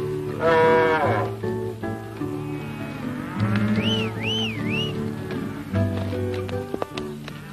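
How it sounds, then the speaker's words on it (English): A herd of cattle moos repeatedly while being driven on the move, loud close lowing calls overlapping with a faint whistle and movement noise, in a 1953 Western film. "Cattle moving."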